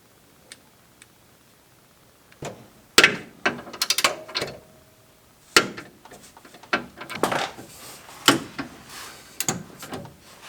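A ratchet torque wrench tightens car suspension bolts, giving bursts of sharp metallic clicks and ratcheting in uneven clusters, close and loud against a quiet garage.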